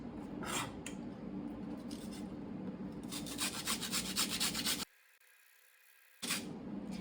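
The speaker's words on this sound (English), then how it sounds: "I'm going to shred about 1 inch of the ginger root." Frozen ginger root rubbed across a shredder in a kitchen, giving rhythmic raspy scraping strokes, fairly quiet and close, with a brief silent pause before the scraping resumes.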